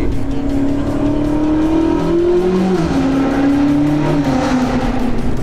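A loud BMW M5 Competition engine, tuned to 820 hp, revs and drones steadily, with pitch rising and dropping as gears change and the exhaust valve closed, no voices.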